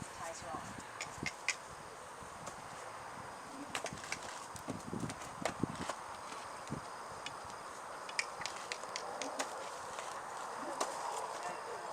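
Hooves of a wild mustang mare clip-clop in scattered, uneven steps during a training session, set against a steady outdoor hiss with faint voices in the background.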